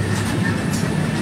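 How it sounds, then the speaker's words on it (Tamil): The Kochuveli Bhavnagar Express passenger train rolls along with a loud, continuous rumble and steady rail noise, heard close from inside the moving train. "நம்ம போகிற ட்ரெயின் எதுன்னு பார்த்தீங்கன்னா பவுநகர்லேருந்து கொச்சிவேலி வரைக்கும் போகக்கூடிய கொச்சிவேலி பவுனர் எக்ஸ்பிரஸ்"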